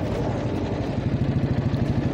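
Royal Enfield Bullet motorcycle engine running with a steady, deep rhythmic thump, close and fairly loud with some rattle.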